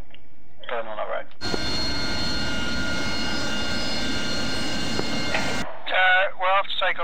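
Loud, steady roar of an aircraft jet engine in the flight simulator DCS World, a broad sustained blast that cuts in abruptly and stops after several seconds, with a voice talking just before and after.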